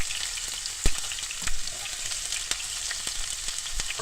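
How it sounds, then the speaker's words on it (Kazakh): Onion sizzles steadily in hot oil in a frying pan, cooked as the base for cabbage rolls, with a bright continuous crackle broken by a few sharp pops and clinks, close and with no voices. "жақсылап қуырамын."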